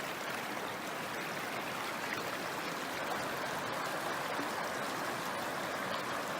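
Fast-flowing river water rushing steadily and loudly close by, a dense continuous roar and splash of current during a wilderness hike in the Eastern Arthurs, with no voices.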